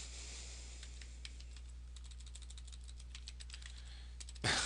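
Fingers type a net ID and password on a computer keyboard in a quiet room, a steady run of light, quick key clicks with a small burst of noise at the very end.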